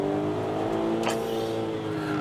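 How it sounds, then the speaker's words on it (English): The 246-horsepower V6 of a Volkswagen Golf R32 hot hatch growls in a steady, loud, droning rev, holding a rich engine note throughout. "this R32 is a car you just fall instantly in love with, quite simply because of the growl of that V6 under the bonnet"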